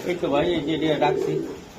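Tournament racing pigeons coo in a low, steady stream close by, while people talk at the same time.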